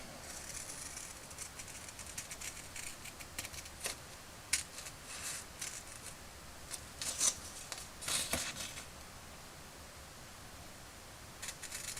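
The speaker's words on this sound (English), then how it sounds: "I've now got all the stickers cut out" Small scissors snip out tiny printed stickers for a G.I. Joe Swamp Skier toy restoration, with sparse, quiet crisp cuts and light paper rustles scattered over a faint background hiss.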